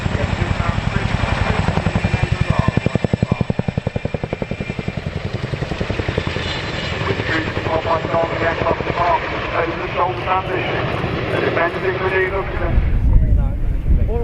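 A Chinook helicopter flies at the RAF Cosford airshow, its rotors throbbing in a fast, deep pulse that is loud at first and then fades, while someone speaks over it throughout.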